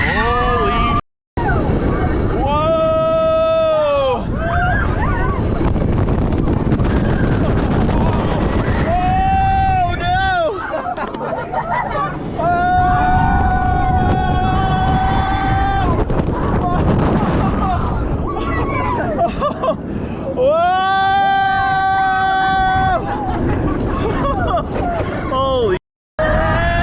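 Riders on the Tigris roller coaster at Busch Gardens scream and shout over strong, roaring wind buffeting the microphone, with rushing noise rising and falling as the ride swoops, ending in a brief dropout.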